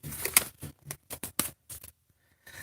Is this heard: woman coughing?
no